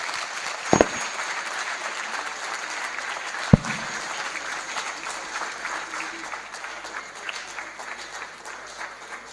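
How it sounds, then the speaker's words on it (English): An audience at a live-streamed talk claps steadily for a speaker, a sustained, dense wash of applause with a couple of sharp knocks near the start. "Please, a round of applause for him."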